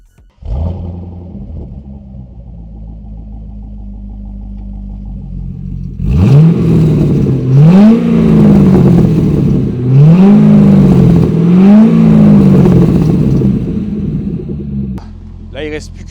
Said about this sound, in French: Je vais vous faire apprécier le V8. Le V8 américain, c'est fou.